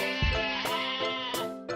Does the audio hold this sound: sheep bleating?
yes